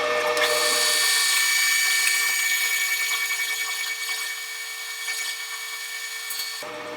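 A lathe parting tool cuts into a corroded water pump seal bore from a Honda Sabre V65, a loud, continuous high-pitched metallic squeal that tapers slightly before stopping abruptly near the end.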